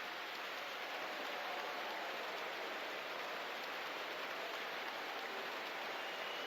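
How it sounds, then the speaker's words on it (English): Rain falling in an American football video game, a steady, dense hiss of rainfall that stays constant and even throughout, with no voices. "This rain ain't gonna make it real easy on us today, is it?"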